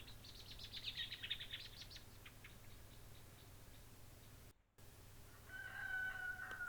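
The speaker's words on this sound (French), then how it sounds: "Le coq chante" Rooster crowing in a garden, a faint distant call near the end, after a run of high chirping birdsong over a low steady hum.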